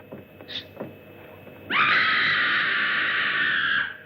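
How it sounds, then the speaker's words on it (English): A person lets out a loud, sustained scream lasting about two seconds, preceded by a few faint knocks and rustles. "That was a scream."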